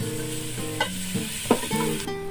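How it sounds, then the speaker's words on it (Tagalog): Food sautés in a pan with black pepper, a soft continuous sizzle with a few scrapes and stirs of a utensil at close range, no voices. "Gigisa lang natin. Mag-add lang ako ng black pepper."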